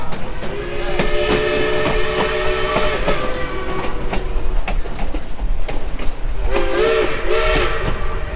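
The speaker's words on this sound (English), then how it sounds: "that's when we heard that classic steam engine whistle" A classic steam engine whistle sounds in long, wavering blasts over the steady rumble and clickety-clack of a train moving slowly through a narrow rocky stretch in Colorado's Animas River Valley, the whistle returning in a second shorter burst near the end.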